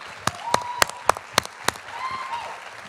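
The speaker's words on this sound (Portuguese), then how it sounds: "Give Gabriela and the team there a hand for singing tonight." Sparse applause from a church service congregation for the singers, several sharp distinct claps in a loose rhythm over a quiet room, with faint voices in the background.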